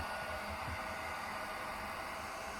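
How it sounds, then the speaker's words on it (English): Simple hair dryer blows heat into a handmade bee sauna device for beehives, a faint steady whooshing hiss of air running continuously without interruption. "we're putting heating. It's just simple hair dryer."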